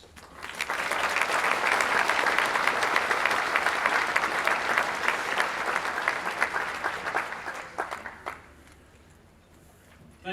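A banquet audience at an annual membership meeting breaks into sustained applause, a dense, loud roar of clapping for about eight seconds before it thins out to scattered claps and quiet.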